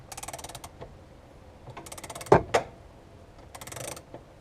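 A ratchet wrench turning on Saab Sonett III steering parts, several bursts of rapid clicking separated by pauses and a couple of sharper metallic knocks in the middle, close by and without talk.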